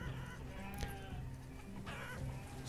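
Chickens in the video game Banished cluck and squawk faintly over a steady bed of background music and ambient noise.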